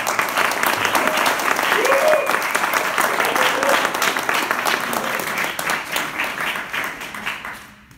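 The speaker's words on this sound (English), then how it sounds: "Can we have a big round of applause for Emily" An audience at a concert applauds steadily and fairly loudly for several seconds, a dense wash of clapping that fades out toward the end.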